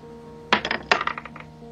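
Dice rolled across a tabletop in a tavern setting for a tabletop game: two quick bursts of clattering, bouncing clicks, close and fairly loud, with no talking.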